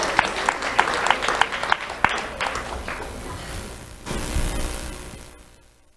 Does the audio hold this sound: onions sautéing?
no